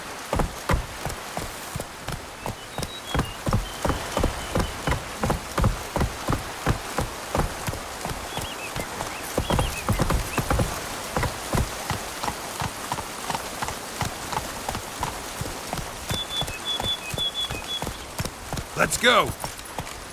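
Roach, a horse in The Witcher 3, gallops through rain, hooves pounding in a quick steady rhythm over constant rainfall for a long stretch, with a brief spoken line partway through and a sharp burst near the end.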